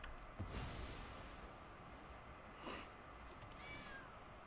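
A cat meows from the Cauldron Familiar card in the MTG Arena digital card game, sounding as a few short, faint meows over quiet background game audio.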